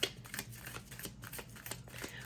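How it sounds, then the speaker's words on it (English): Tarot cards being shuffled in a run of soft, papery riffles and slides, close and fairly quiet, with no talking over them. "let us shuffle through and get some cards for the extended."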